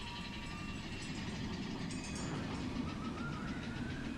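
The Big Thunder Mountain railroad ride train at Disneyland rumbles faintly in the distance, a low, steady mechanical drone amid the ambient theme-park background.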